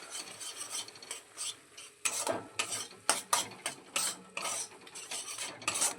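A spoon stirs sweetened chhana mixture with cardamom powder in a pan for raw mango kalakand, giving repeated scraping and rubbing strokes in uneven bursts, close and moderately loud, no voices.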